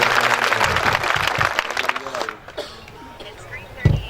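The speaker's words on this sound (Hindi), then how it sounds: "अच्छे संचालन के लिए मेरे रवि के लिए ताली बजाइए।" Audience applause at a stage program in Ujjain, a busy burst of clapping mixed with crowd babble and voices that fades after a couple of seconds, leaving scattered thumps and murmur.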